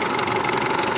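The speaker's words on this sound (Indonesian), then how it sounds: "kita coba mesin hidupkan." A used car engine runs at a steady idle, a dense continuous rumble with an even fast pulsing and no talk over it.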